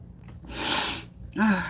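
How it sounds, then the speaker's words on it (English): A short, wet nasal sniffle followed after a pause by a sharp inhaled snort, close up with no talking. "Please excuse the sniffles."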